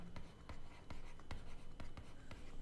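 A pen scratches out an accounting entry on paper, a faint close series of short strokes and taps in a quiet room, with no talk.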